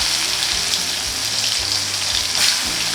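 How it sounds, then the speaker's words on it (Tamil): Steady, loud sizzling of garlic frying in hot oil, a dense crackling hiss that runs throughout with no talking. "பூண்டு போட்டு தாளிக்க போகிறேன்"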